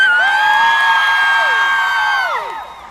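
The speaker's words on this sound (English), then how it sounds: "Could we get a big cheer, please?" A convention panel audience at a comic con cheers and whoops loudly together, a dense burst of shouting voices that holds steady before tapering off near the end.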